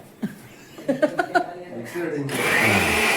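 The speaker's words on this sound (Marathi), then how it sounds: "मिक्सर लावते जरा मागे उभे राहा" A kitchen mixer grinder loaded with tomatoes whirs to life after a few spoken words and a couple of knocks, then runs with a loud, steady grinding roar to the end.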